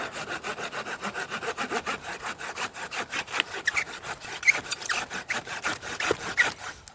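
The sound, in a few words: saw binding while cutting wood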